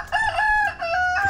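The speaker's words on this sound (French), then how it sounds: "Ah, tu vois les coqs, regarde, ils sont sous les trucs là." A rooster crows in Bali, one long cock-a-doodle-doo close and loud, its bright harmonic call rising and holding before a second crow starts near the end, with no talk over it.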